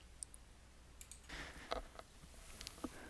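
Computer mouse clicks at a desk: a few faint, sharp, separate clicks scattered over three seconds, close but quiet against a soft background hiss.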